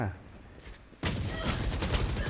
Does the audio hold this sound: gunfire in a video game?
yes